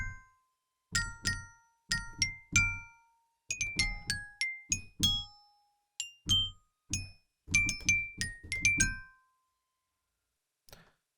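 Muted glockenspiel from the Bad Cat Media Indi Glock library plays quick, clipped metallic plinks in brisk phrases, each note damped short with little ring, fairly soft and heard alone.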